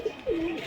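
A single short coo from a closed-tail pigeon in a home loft in Ranaghat, with a brief note followed by a drawn-out low tone, close and clear.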